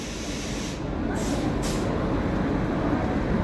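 Firozpur–New Delhi intercity train running, giving a continuous loud rumbling roar with dense wheel noise, heard steadily from close by without talking.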